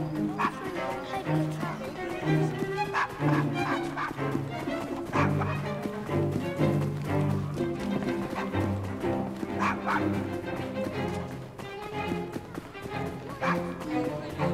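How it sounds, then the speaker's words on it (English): Dog barks and yips from the Assassin's Creed Chronicles video game, several short barks with a whimper, set among busy game sound and voices. "Nice doggy."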